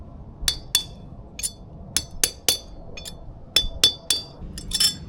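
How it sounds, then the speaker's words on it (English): A series of sharp metallic clanks, about a dozen hammer blows in uneven bursts, as new rear wheel bearing races are driven into a Landcruiser 70 series hub using an old race with a grinder cut in it. "So now to knock the new racers in, you use an old race"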